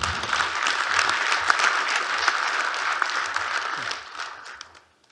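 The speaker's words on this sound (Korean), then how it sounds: "감사와 환영의 박수를 보내주시기 바랍니다" A hall full of delegates at a Korean university council general assembly claps to welcome the deputy prime minister and education minister, a dense, loud, sustained applause that thins and fades out over the final second.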